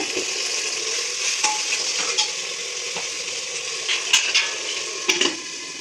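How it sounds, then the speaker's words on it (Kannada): Tomatoes fry and roast in a pan for tomato bath, a loud, steady close sizzle with occasional spatula scrapes and clinks. No talking. "ಈಗ ಟೊಮೊಟೊ ಹಾಕೋಣ ಆಗಲೇ ಹೆಚ್ಚಿಗೆ ಒಂದು ಮೂರು ಟೊಮೊಟೊನ ಹಾಕೋತಾ ಇದ್ದೀನಿ ಇದು ಸ್ವಲ್ಪ ಚೆನ್ನಾಗಿ ರೋಸ್ಟ್ ಮಾಡಿ ಒಂದು ಬಿಡೋ ರೀತಿಯಾಗಿ ಚೆನ್ನಾಗಿ ಫ್ರೈ ಮಾಡ್ಕೋಬೇಕು"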